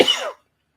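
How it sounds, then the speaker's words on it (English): A single short, dry cough from a man with a lingering cough after COVID, close and clear, lasting under half a second before silence. "Still got the friggin' COVID cough."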